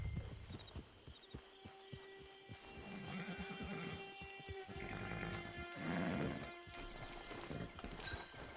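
A horse in a video game whinnies near a camp and hitching post, accompanied by clip-clopping hooves and game music.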